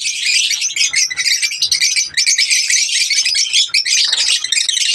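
A busy chorus of African lovebirds chirping and squawking nonstop, many overlapping shrill calls close by.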